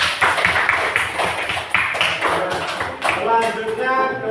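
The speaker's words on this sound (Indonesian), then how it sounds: "tepuk tangan untuk kelompok 2" Classroom applause for a student group, a burst of many hands clapping close by for several seconds, with some voices mixed in.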